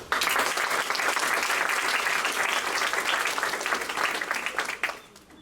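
Audience applause at a school honor society induction ceremony, many people clapping in a steady, full patter for about five seconds before tapering off at the end.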